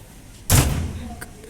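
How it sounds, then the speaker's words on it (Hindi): A door banging shut in a strong wind indoors, one loud close thud with a short rumbling tail, followed a moment later by a faint second knock. "दरवाज़ा बजा है ना हवा से"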